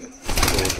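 A Malwai pigeon coos once, close and fairly loud, a short throaty call that swells after a brief quiet start, with no talking over it.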